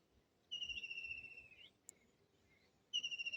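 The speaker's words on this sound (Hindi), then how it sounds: "अभी आपने चिड़िया की आवाज़ सुनी" Bright whistled bird chirps in two drawn-out bursts, separated by a quiet gap with a faint rustling background and one sharp tick.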